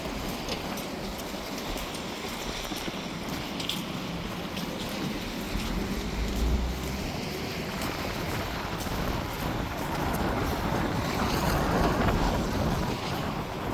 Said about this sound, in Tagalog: Talagang ganito pag malakas ang hangin